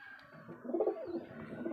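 Pigeons kept in a loft coo softly, with low, rolling throaty calls that swell in the middle and keep going, close by and without any talk.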